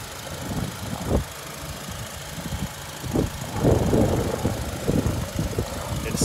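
A 2006 Honda Accord LX engine idles steadily at close range, a low, even rumble with a few louder bumps and surges in level and no talking.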